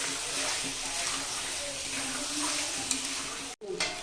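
Chicken kosha fries in a pan over full gas flame with a little water added, a dense, steady hiss and sizzle heard up close that drops out briefly near the end before resuming.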